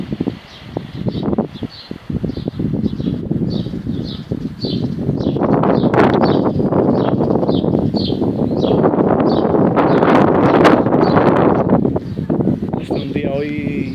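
Gusty wind rumbles and buffets the microphone for most of the clip while someone talks over it outdoors near the stone bridge over the Duero river in Zamora, Spain.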